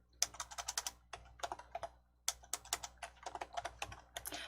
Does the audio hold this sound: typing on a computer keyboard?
yes